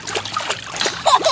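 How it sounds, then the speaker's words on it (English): Quick, light splashes of water in a rapid, irregular flurry, close by, with a brighter burst of splashing near the end. "Just splash some more on him."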